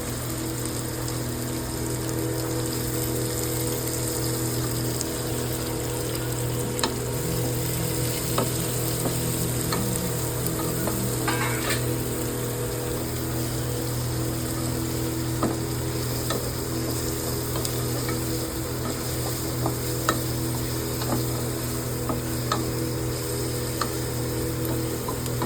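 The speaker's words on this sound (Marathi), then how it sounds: "हा थोडा गोल्डन ब्राऊन करून घेऊया आपण." Onion, curry leaves and green chili browning in a pan for dal khichdi, a steady close sizzle lasting throughout with occasional light taps and scrapes of stirring, no voices.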